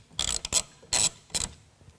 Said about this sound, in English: take a half inch wrench and loosen up that hardware